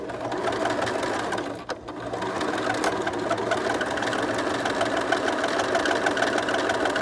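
Sewing machine running steadily as it top stitches around the edge of a fabric face mask, a continuous close mechanical whirr with a brief pause near the start.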